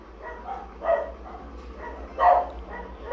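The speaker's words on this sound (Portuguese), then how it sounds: "Tem uns cachorros latindo aqui." Dogs bark outdoors in the distance, two short bursts of barking spaced about a second and a half apart over a low steady hum.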